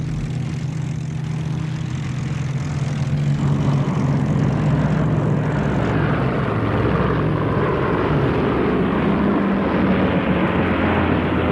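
Japanese aircraft attacking American carriers at the Battle of Leyte Gulf, a loud steady roar of propeller engines with a droning, continuous wash that holds without pause throughout.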